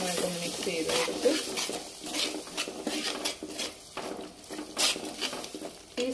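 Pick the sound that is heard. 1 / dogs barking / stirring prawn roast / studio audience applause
stirring prawn roast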